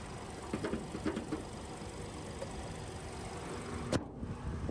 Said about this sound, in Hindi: तो ये था TSI पेट्रोल इंजन